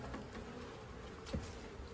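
Honey bees buzz faintly and steadily during a hive installation, a soft continuous drone with a slight swell near the end.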